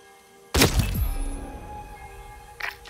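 A single sharp gunshot in Hitman 3 lands at once with a heavy thud and crack, rings out into a decaying tail, then a fainter second impact follows near the end.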